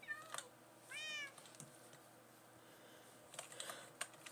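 A cat in the video game Dreamlands gives one short, clear meow amid quiet keyboard-like clicking and tapping, with no speech over it.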